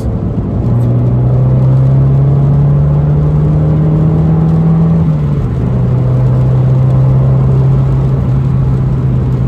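A stock, unmodified Ford Fiesta engine running in sports mode gives a loud, steady droning hum that climbs slowly in pitch, dips once midway and then holds, with no talking.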